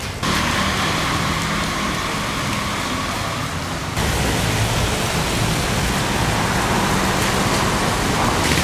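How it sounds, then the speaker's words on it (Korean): Heavy rain pours down steadily outdoors on a street, a loud, dense, unbroken hiss that fills the whole stretch, with a slight shift in texture partway through and no voices. "호텔까지 한 300m 남았는데 비가 미치듯이 옵니다"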